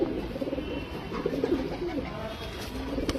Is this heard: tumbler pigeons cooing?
yes